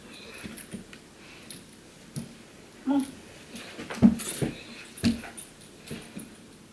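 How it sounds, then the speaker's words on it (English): A German Shepherd in a house gives a series of soft, high whimpers and short yips, scattered irregularly and fairly quiet against a low background. "This is my German Shepherd Shadow, who is almost 2 years old."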